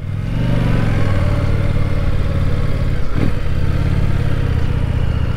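A 2025 Indian Scout motorcycle engine pulling in first gear, a loud, steady, close mechanical drone with a brief dip and rise in pitch partway through.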